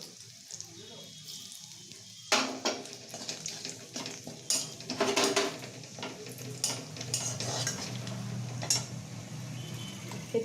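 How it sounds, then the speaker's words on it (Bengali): Whole garam masala spices hitting hot oil, a sudden burst of crackling sizzle after a quiet start, followed by spoon stirring and light clinks against the pan, close by. "এই তেলের মধ্যে মা ফার্স্টে গরম মশলা ফোড়ন দেবে।"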